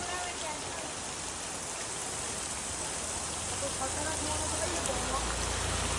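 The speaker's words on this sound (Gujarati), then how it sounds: "વરસાદ ફૂલ ચાલુ છે" Heavy rain pours down steadily in Gujarat, a dense, unbroken roar of drops on surfaces, loud and even throughout, with a low rumble growing toward the end.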